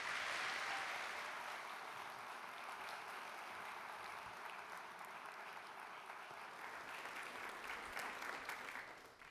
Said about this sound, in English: How about another round of applause for all of you winners tonight?